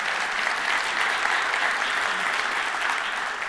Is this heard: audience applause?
yes